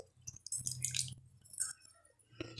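Tamarind water and a spice mixture are poured into a pan for a yam kara kuzhambu, giving close, wet splashing and trickling in short bursts with brief pauses between them.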